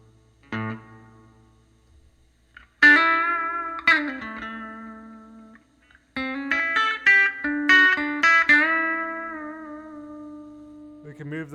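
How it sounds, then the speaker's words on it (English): An electric guitar played direct through a Two Notes OPUS with a simulated Fender-style 6L6 pentode power amp and spring reverb: a few separate plucked notes and chords ring out, each trailing off in a reverberant tail. "Let's do some spring reverb."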